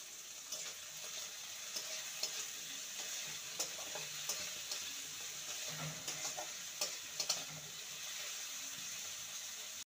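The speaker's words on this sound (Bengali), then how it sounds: "পেঁয়াজ আর টমেটোকে ভালো করে ভেজে নিয়েছি।" Chopped onion and a medium tomato with a pinch of salt fry in a pan for an egg poppy-seed curry, giving a steady, close sizzle with occasional stirring scrapes and no talking.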